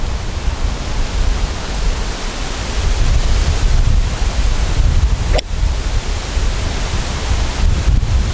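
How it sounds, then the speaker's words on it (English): Hurricane-force wind gusts hard and without pause, a loud, broad roar pounding close against the microphone, briefly surging stronger midway before settling back into its constant rush. "The wind really is tough."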